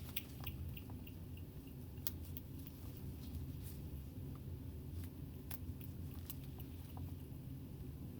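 Scissors or a blade cutting through a preserved cat's rib attachments to the sternum during a lab dissection, giving soft, scattered crunches and snips over a steady low background hum.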